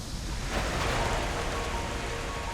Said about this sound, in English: It was so refreshing when the rain arrived.